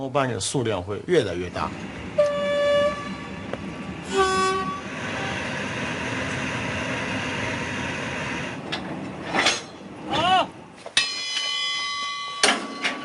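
Freight train noise in Chongqing on the New Silk Road route, with horn toots and harmonic whistles, rumbling steadily alongside bursts of talk and background commotion.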